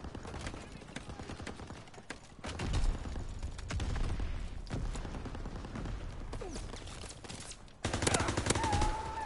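Rapid gunfire from a weapon in a World War II shooter game, bursts of fast repeated shots with short pauses between volleys, moderately loud and close, with a heavier burst near the end.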